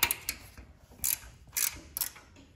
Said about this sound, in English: the throttle bracket is connected to the head, so that's gonna come off. 10 millimeter wrench.